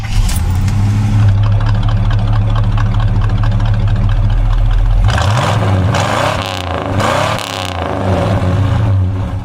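A 1972 Chevy Monte Carlo with a matching-numbers 350 V8, automatic transmission and dual exhaust rumbles at a loud, close idle, then swells through several deep throttle revs.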